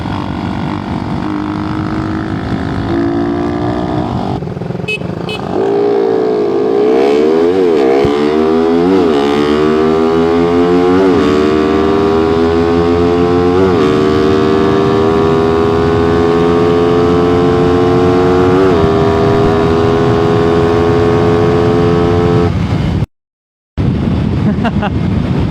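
A Suzuki Raider carburetor motorcycle racing a Raider FI: a loud, close engine wails and climbs through repeated upshifts, each gear rising in pitch before dropping back, then holding a high steady drone before a brief cutout near the end.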